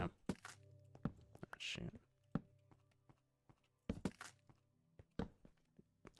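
Blocks being placed in the Minecraft video game, heard as a series of short, sharp thunks in uneven bursts, with a voice talking briefly in between.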